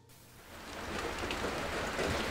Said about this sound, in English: I could hear the rain lightly bouncing off the roof.